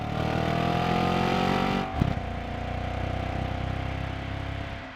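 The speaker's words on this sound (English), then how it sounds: "Revving it, revving it." A 2015 Audi RS5 engine revs hard and holds a high growl, then drops sharply and settles into a rough, throbbing idle nearby.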